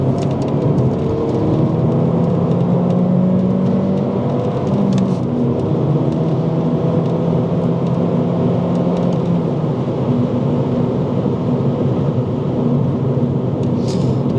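A fully rebuilt Mini Cooper S engine drones steadily from inside the car while driving, with a constant road rumble and gently rising and falling engine tones and no talking.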